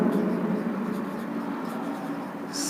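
Pen or chalk writing on a surface, a steady scratchy stroke sound close by, continuous throughout under a faint background hum.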